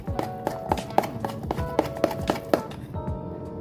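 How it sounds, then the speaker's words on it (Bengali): A utensil beats a smooth biscuit mithai batter in a bowl with quick, regular knocks and taps against the side, about three or four strokes per second, loud and close, with no voices. "এবার আমি পুরো মিশ্রণটাকে ভালো করে ফেটাবো।"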